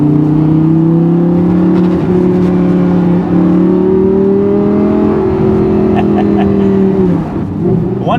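A Lamborghini engine pulls hard under acceleration, a loud, sustained close-up roar that climbs in pitch, then briefly drops away near the end as if shifting or lifting off.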